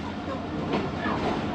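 Bahauddin Zakariya Express, the 26 Down train, standing at Ghotki station with its diesel locomotive, a steady low rumble filling the space and a brief louder swell partway through; voices are faintly present.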